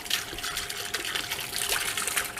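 Water flowing from a solar-powered 12 volt pump, a steady trickling and splashing stream that is fairly quiet and continuous with no talk over it.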